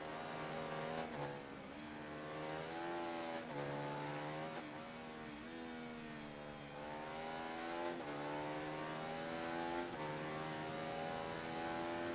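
Motorbike racing in the video game Ride 3, a high-pitched engine whining loudly and continuously as it repeatedly climbs through the revs and drops with each gear change, with no talk over it.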